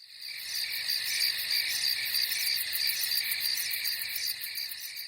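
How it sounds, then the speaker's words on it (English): Crickets chirp in a meadow at evening, a dense, continuous pulsing chorus of high trills that stays steady and fairly soft throughout with no other sounds. "Only a concert of crickets could be heard from the nearby meadow."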